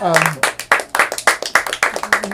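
Comedy club audience breaks into applause, a brisk burst of sharp overlapping claps with a loud, close, rhythmic texture, briefly overlapping a comedian's voice at the start.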